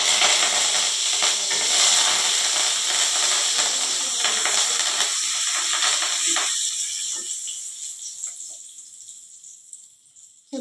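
Curry leaves and green chillies frying in hot oil for an eggplant fry, a loud steady sizzle and hiss that gradually fades toward quiet near the end.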